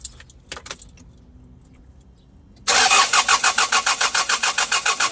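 Keys jangle briefly, then a Hyundai Porter2 truck with a D4CB diesel engine cranks loudly in a fast, even rhythmic churn from about two and a half seconds on, close and alone without turning over into a run.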